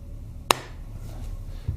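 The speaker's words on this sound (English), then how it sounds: "I'm just using a little nylon hammer." A small nylon hammer taps a brass rod against the end of a Harley-Davidson Twin Cam 88 shaft during an engine rebuild, giving one sharp close knock over a quiet background, with a softer thud near the end.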